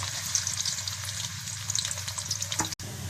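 Onions frying in hot mustard oil for a potato and egg curry, a constant bright crackling sizzle heard close up, with a brief stir near the end.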